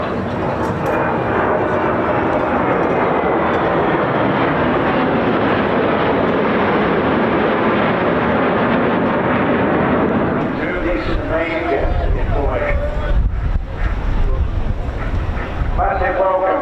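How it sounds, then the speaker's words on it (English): A Swedish Air Force historic flight formation of Saab Draken jets passes at the Bournemouth Air Festival, a loud, broad roar of jet engines that thins midway as the sound shifts, with a commentator talking over it. "Stone Anderson and Lars Martinson, the Draken formation from the Swedish Air Force historic flight"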